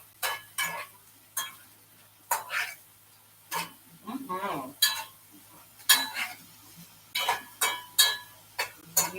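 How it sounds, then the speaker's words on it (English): A spoon stirs diced root vegetables, including beets, in a pan, giving a run of sharp scraping clinks and knocks in an uneven rhythm, with soft sizzling underneath and short pauses between strokes. "Give our root veggies a stir."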